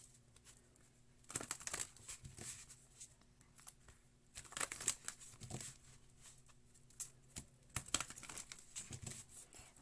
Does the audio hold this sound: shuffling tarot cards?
yes